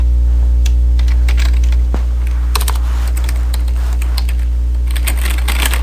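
Fast, uneven clicking of computer keys as a login is typed, with brief pauses between bursts, heard close over a steady low electrical hum.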